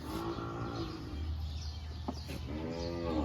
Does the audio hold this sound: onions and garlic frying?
no